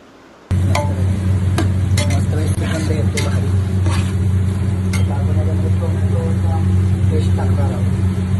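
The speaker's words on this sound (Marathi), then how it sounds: "दही टाकून चांगलं मिक्स करायचं आहे आपण ह्याला." Yogurt being stirred into biryani masala in a pan: several soft scraping strokes spread through the clip, partly buried under a loud, steady low droning hum that runs throughout.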